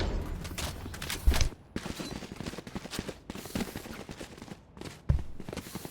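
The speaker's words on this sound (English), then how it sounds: "Those shots for YU were nothing if not impressive" Gunshots in the tactical shooter Valorant during a competitive match, a quick series of sharp cracks with a couple of heavier thumps over busy background noise.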